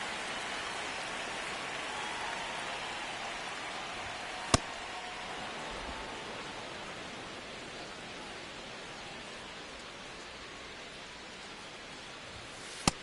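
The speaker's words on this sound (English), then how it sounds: "This rain is not letting up." Steady rain pours down at a baseball game in MLB The Show 26, a dense, even hiss that fills the whole scene, with two sharp clicks standing out and no talking.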